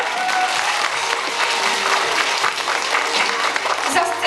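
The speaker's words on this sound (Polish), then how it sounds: "Dziękuję bardzo, brawa dla pana Tomka." Dense, loud audience applause after a children's theatre performance, sustained clapping from a full room filling the whole stretch with a slight crowd murmur.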